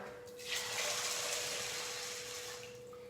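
Water is poured from a tap into a Saladmaster cookware pot holding beans: a steady, close splashing rush that starts after a brief pause and runs for about two and a half seconds.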